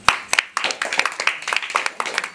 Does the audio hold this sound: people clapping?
yes